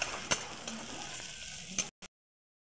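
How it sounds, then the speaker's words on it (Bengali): Onion with a small amount of ginger-garlic paste sizzles in hot oil in a pan, a steady crackle with a few sharp stirring scrapes before it stops suddenly. "একটু নাড়াচাড়া করে নেব।"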